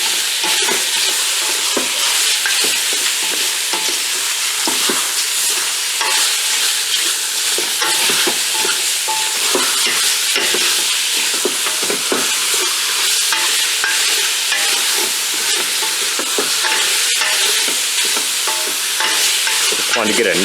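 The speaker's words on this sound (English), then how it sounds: "Want to get a nice sear on the meat, going nicely" Chunks of beef for stew sear in melted butter in a hot pan, producing a loud, continuous close-up sizzle with crackling spatters and occasional stirring, no voices.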